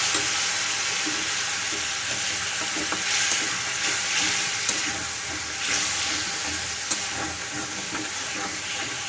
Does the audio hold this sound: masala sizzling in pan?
yes